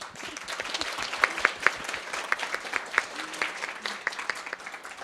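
Wedding reception guests applaud steadily, with a dense crowd clapping at moderate volume and a few sharper individual claps standing out. Faint voices sit underneath.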